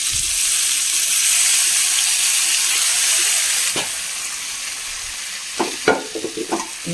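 Cooked jackfruit tossed into a pan of onion and chili and stir-fried, giving a steady sizzle that drops quieter midway, followed by a few sharp spatula scrapes and clinks.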